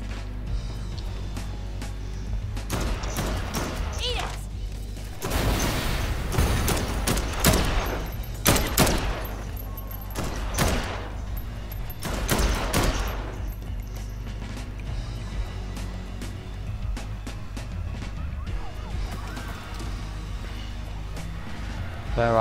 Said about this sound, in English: Let's see what a gun can do.